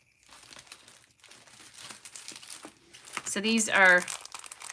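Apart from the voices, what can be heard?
handling puffy sticker sheets, crinkling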